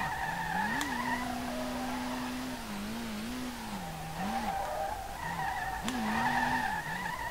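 Tires squeal and skid in long sustained drifts as a Nissan R32 slides through corners in the SLRR driving game, with a steady engine drone beneath and brief whooshes, the squeal rising and falling with each slide.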